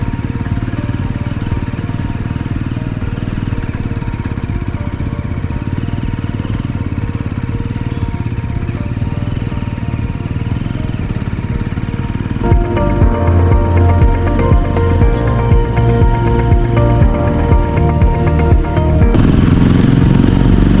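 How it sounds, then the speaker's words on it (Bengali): Three West Bengal motorcycles ride together on a high mountain road in North Sikkim, their engines a loud continuous drone that swells and grows busier about two-thirds of the way through. "একসাথে যাচ্ছে 3টা বাইক, 3টাই ওয়েস্ট বেঙ্গলের বাইক"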